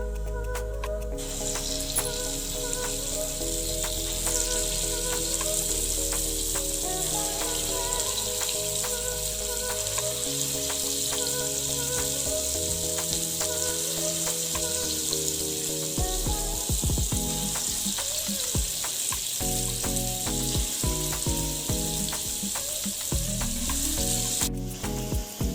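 Savi akki ambode, rice flour fritters, frying in a pan of hot oil with a steady, dense sizzle that runs the whole time over soft background music.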